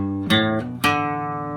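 A short acoustic guitar riff: a few plucked notes followed by a strummed chord that rings out clearly, played up close.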